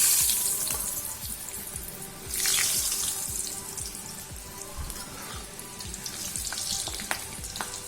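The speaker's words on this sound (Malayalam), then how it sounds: "നമുക്ക് കുറേശ്ശെ ഉരുളക്കിഴങ്ങിട്ട് നന്നായിട്ടൊന്ന് ഫ്രൈ ചെയ്തെടുക്കാം." Potato French fries deep-fry in hot oil at home, a constant crackling bubbling sizzle with a brief louder surge, steady and close, no voices.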